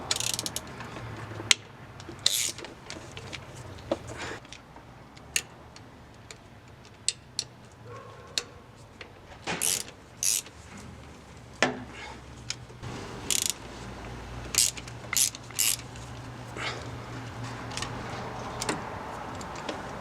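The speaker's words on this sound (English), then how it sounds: "Now to remove the 4 bolts that hold it down to the cylinder head." A ratchet and 13mm socket working loose the four coil pack bolts on a Jeep Wrangler TJ cylinder head, giving quick bursts of ratcheting clicks and clanks, close by, with some talk mixed in.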